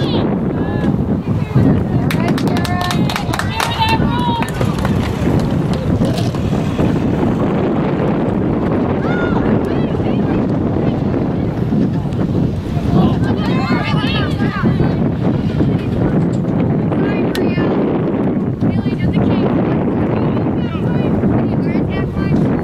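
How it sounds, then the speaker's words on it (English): Strong wind buffets the microphone in a steady, loud roar that runs the whole time, likely out on open water near a boat, with voices talking at intervals over it. "The wind's really picked up."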